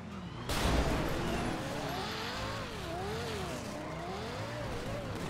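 A Porsche in Grand Theft Auto V drives with a steady engine drone whose pitch climbs and falls as it revs and shifts. It starts with a burst of acceleration and keeps going at a fairly loud, continuous level.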